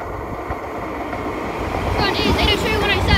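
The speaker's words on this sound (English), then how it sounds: "Now is a Great Western Railway service to Penzance." Great Western Railway train 802107 bound for Penzance passing through Exeter St Thomas station, a loud close rumbling roar with rising rattling and rushing noise as it approaches.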